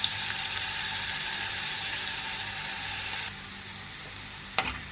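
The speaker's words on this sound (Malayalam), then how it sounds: "ഇത് നെയ്ക്കകത്ത് നന്നായിട്ടൊന്ന് കുക്കാവട്ടെ. അതുവരെ നമുക്കതങ്ങനെ ഇളക്കി കൊടുക്കാം." Grated robusta banana cooks in ghee for banana ladoo, with a steady close sizzle while it is stirred. The frying quietens partway through, and then a sharp utensil knock sounds near the end.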